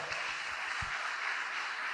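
Church congregation applauding together at a service, a steady broadband patter of clapping hands throughout, fairly even in loudness with a faint voice briefly underneath.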